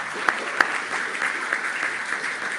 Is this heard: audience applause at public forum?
yes